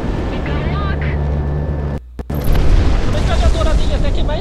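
Heavy booms and explosions mixed with fighter-jet gunfire in the aerial combat game Project Wingman, an F-16 firing its machine gun: a dense, continuous roar that cuts out briefly, then resumes louder with deep rumbling blasts.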